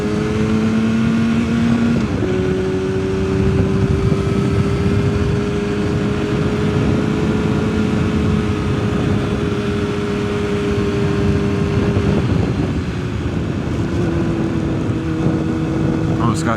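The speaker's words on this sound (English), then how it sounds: "Let you enjoy the sound of the bike for a little bit." Yamaha R6 motorcycle engine droning steadily at close range while riding, a sustained tonal whine that holds pitch then steps down, with heavy wind rush over the microphone throughout.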